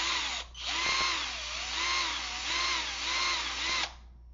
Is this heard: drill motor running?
yes